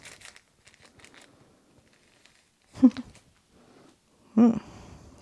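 Small plastic packaging bags crinkle and rustle during the unboxing of a DJI Pocket 2 Creator Combo camera kit, with faint scattered handling noises and two louder, short bursts of crinkling close to the microphone.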